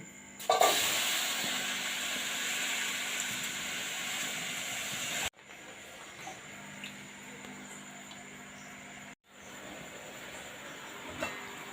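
Water spinach sizzles in a hot wok on a gas stove, a steady loud hiss heard close up with two brief cuts.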